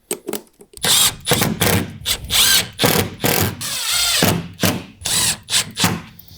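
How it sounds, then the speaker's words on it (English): A Milwaukee cordless drill pre-drills holes in repeated short bursts, loud and close, each whir starting and stopping in quick succession with no talking. "Let's pre-drill a couple."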